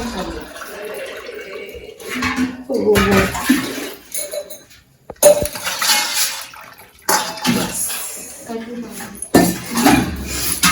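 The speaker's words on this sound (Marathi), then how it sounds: "तर थोडं पाणी टाकतोय." Water is poured into a simmering pot of village-style crab curry, a splashing pour alongside clinking pots and utensils in a home kitchen, with speech in between.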